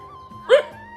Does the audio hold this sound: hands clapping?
no